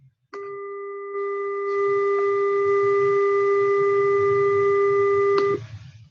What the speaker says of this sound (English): So this is the square wave.